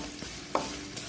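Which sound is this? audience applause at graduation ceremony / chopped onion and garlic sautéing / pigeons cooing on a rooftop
chopped onion and garlic sautéing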